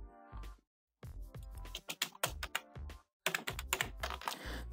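Fast typing on a computer keyboard, close and fairly quiet, with bursts of rapid keystrokes broken by brief pauses.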